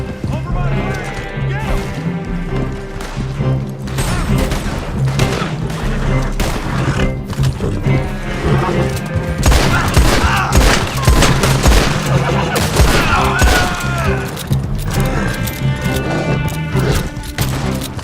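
Shotgun blasts and other gunfire ring out during a hectic shootout in the western video game Red Dead Online, booming repeatedly amid game sounds while a player talks over the action.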